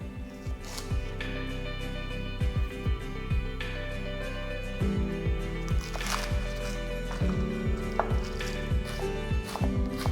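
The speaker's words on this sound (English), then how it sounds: "Four sticks of green onion, finely chopped" A knife finely chopping green onion on a board, quick rapid taps in bursts over a low steady background hum, close and fairly soft, with no one talking.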